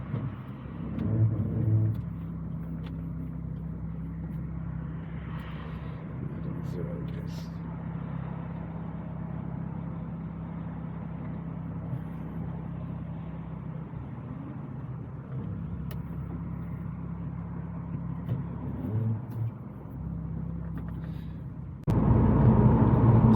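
Steady road drone from a BMW-powered Morgan Plus Six getting underway on a motorway, a continuous low engine and tyre rumble with a brief louder burst at the end.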